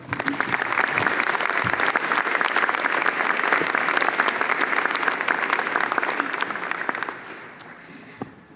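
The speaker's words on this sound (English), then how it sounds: "Let's give them a round of applause." Sustained audience applause, a dense wash of clapping that holds steady for several seconds and then thins out toward the end.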